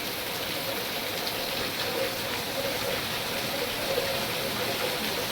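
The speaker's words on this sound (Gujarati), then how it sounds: "ફૂલ વરસાદ વધી ગયો ભાઈ છે" Heavy monsoon rain pours down during a thunderstorm with moderate wind, a dense, constant hiss of falling water at an even, loud level with no pauses.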